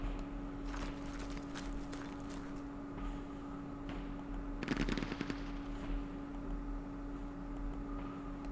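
Machine gun fire in the Vietnam war game Campaign Series Vietnam, set at Dien Bien Phu: rapid bursts of fairly faint gunfire over a low steady hum, with a denser, louder burst near the middle.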